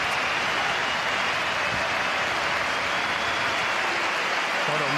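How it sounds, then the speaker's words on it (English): Stadium crowd at the Emirates applauding as striker Victor Gyökeres is substituted during an Arsenal versus Atletico Madrid Champions League match, a steady, dense wash of clapping and cheering throughout. "Victor Gyökeres will get the round of applause he deserves for his performance"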